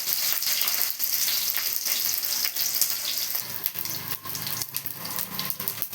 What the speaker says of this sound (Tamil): சாம்பார் வெங்காயம் போடவும் போட்டுக்கலாம் நல்லா வதக்கி விட்டுக்கலாம்